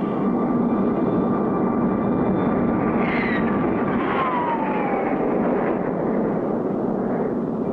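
A cartoon airplane roars overhead in a continuous loud rushing drone with whining engine tones that bend downward as it passes, steady and dense with no voices.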